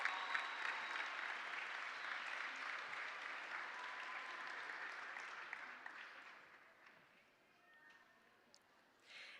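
A high school graduation crowd applauds an advisory class, a broad wash of clapping that starts strong and gradually fades away, heard from within the audience.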